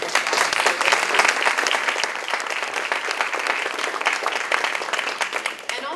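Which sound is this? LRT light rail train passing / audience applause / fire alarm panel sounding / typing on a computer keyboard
audience applause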